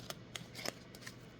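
Oracle cards drawn from a deck, a few soft, quick papery flicks and slides, faint and close in a quiet room.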